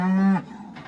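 On a farm, a single loud, close cow moo lasts about half a second, falls off sharply, and is followed by a fainter rumble.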